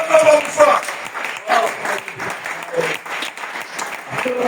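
A church congregation applauds during a fasting service, dense clapping sustained for several seconds with voices calling out over it.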